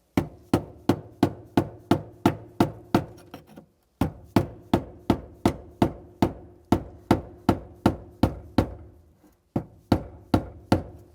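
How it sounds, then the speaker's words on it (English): Fuel pump lock ring being tightened down on a 2007-2013 Mini Cooper, heard as a steady run of sharp, close taps in quick succession, with brief pauses between bursts and no talking. "Now you just want to tighten that lock ring down."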